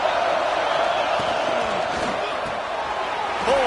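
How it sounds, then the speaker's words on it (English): A loud American football stadium crowd roars in a dense, sustained wall of noise, with a commentator talking over it throughout. "Listen to this crowd just shaking the girders of this place"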